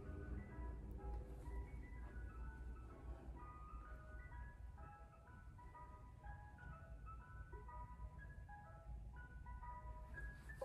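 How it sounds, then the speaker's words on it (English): An ice cream truck plays its chiming melody far away on a cold day, very faint and steady, with a low engine rumble under the repeating tune. "did y'all just hear that? Was that the ice cream truck?"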